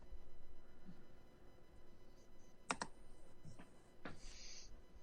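Quiet, angry typing on a computer keyboard, with a few sharp, scattered key clicks over a low background hiss.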